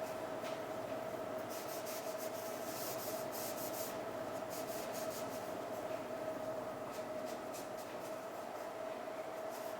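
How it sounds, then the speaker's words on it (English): Cloth wiping excess finish off carved mahogany, a soft steady rubbing texture with faint brushing strokes, quiet and continuous with no talking. "I'm going to wipe this thing off, get all the excess off."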